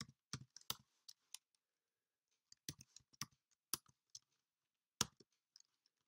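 Typing on a computer keyboard while writing Swift code, several quick bursts of crisp key clicks separated by pauses, close and clear in a quiet room.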